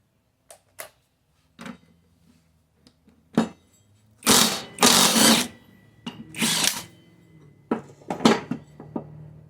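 Metal sockets clink and rattle while a 7/8 socket is fitted to remove the deck pulleys of a Poulan Pro 925zx zero-turn mower, followed by several loud, short power-tool whirs between sharp clanks, close by with no speech.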